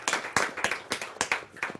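Audience at a Hindi kavi sammelan poetry gathering clapping in a quick, uneven burst of applause, sharp hand claps repeating several times a second, moderately close and without talk.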